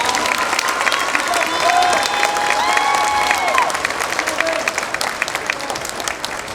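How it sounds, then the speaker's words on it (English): Audience applause fills a Christmas concert hall after a jazz waltz version of the Sugar Plum Fairy, a dense steady clapping with some cheering, loud and sustained throughout. "You'll give them another round of applause."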